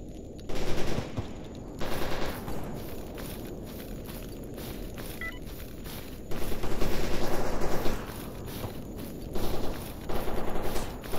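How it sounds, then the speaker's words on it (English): Gunfire in the video game STALKER Anomaly: repeated bursts of rapid automatic shots, each lasting about a second, separated by quieter stretches of ambient noise and a few soft steps. "There's a lot of shooting going on with so many things around."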